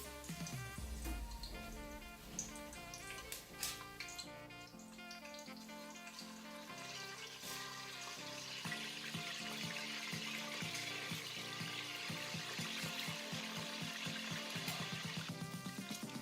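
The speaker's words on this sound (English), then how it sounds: "then fry the fish" Fish frying in hot vegetable oil with onions in a pot for a Nigerian Mama Put stew, giving a steady, dense sizzle and bubbling hiss that runs unbroken throughout at moderate loudness.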